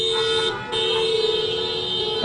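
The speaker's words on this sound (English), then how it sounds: "there's definitely a lot of honking here, Marco" Car horns blare at a roadside teachers' rally calling for safe school reopening, a loud sustained honk cutting out briefly and then resuming, with more horns layered on top.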